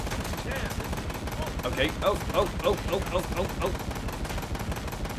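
Rapid bursts of gunfire in the video game Ride to Hell: Retribution pop in a quick repeating series over a constant rumbling engine bed, with someone talking over it.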